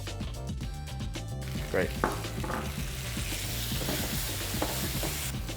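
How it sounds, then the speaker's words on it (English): Roasted kimchi tipped into a hot pan of crispy bacon lardons, sizzling and crackling loudly and continuously with stirring scrapes, while a voice speaks briefly. "So halfway there, I add my kimchi, roasted kimchi."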